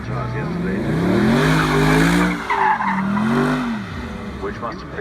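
A racing car at Goodwood 2017 skids with a long, wavering tire squeal over a roaring engine, loud and close, and a voice talks over it.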